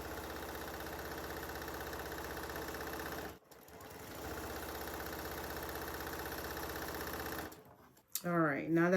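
A sewing machine runs steadily while sewing quilt block corners, a continuous mechanical whir broken by a brief pause, then stopping before a voice begins at the end.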